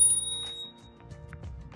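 A bicycle bell on a DYU T1 folding 20-inch e-bike rings with a bright, sustained tone at the start, followed by quieter ringing and light handling noise nearby.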